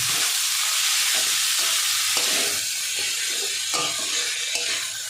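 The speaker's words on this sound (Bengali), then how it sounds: "এই যে আমি মোচাটা দিয়ে দিলাম, মোচাটা দিয়ে একটু ভালো করে কষাবো।" Banana flower, boiled beforehand with salt and turmeric, sizzles and fries in a pan under steady stirring, with spatula scrapes breaking through the hiss at intervals. The sound is close and continuous, and no one speaks.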